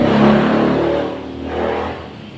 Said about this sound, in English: loud motorbikes everywhere